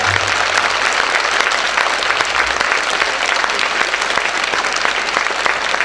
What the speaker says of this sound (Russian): Аплодисменты, русская отрада!